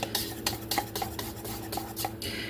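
Powdered sugar icing is whisked in a small bowl with a little whisk, giving quick, close metallic clinks and scrapes in a rapid uneven rhythm against the bowl sides.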